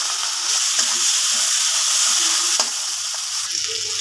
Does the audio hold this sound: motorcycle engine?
no